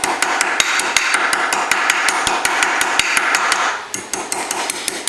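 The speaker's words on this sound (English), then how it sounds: "I come back with my ball peen hammer, and very gently I will work these down." A small ball peen hammer gently taps metal fittings in a steady quick rhythm, sharp close strikes repeating throughout with a brief pause before resuming.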